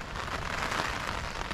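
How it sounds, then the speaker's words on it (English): Heavy rain during a sudden summer thunderstorm in France, falling as a dense, steady hiss of drops on hard surfaces, close and unbroken, with no voices. "Lightning and thunder and rain."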